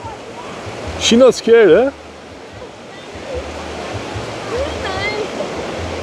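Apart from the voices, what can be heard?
ocean waves on a beach in Hua Hin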